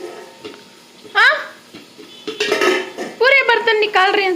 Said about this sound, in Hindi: पूरे बर्तन निकाल रही हैं सो।